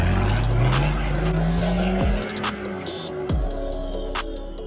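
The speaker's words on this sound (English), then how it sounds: "I'm actually only spinning one rear wheel." A Nissan Patrol off-road with a Harrop E-Locker or ARB Air Locker, spinning one rear wheel; the engine revs up and drops in loud rising and falling surges, close and steady, with no talking.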